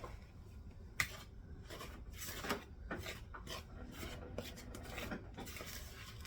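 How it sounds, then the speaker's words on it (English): Bread dough with garlic, salt and cheddar stirred by hand in a bowl makes quiet, irregular scraping and rubbing strokes with occasional light clinks, close and faint, with no talking. "And we're going to stir that together."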